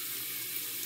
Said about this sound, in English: So I then rinse,